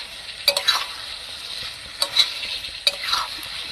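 Fried potatoes being stir-fried in a pan held with tongs, bright sizzling with a few distinct scraping strokes and metallic taps at irregular intervals, close and fairly loud.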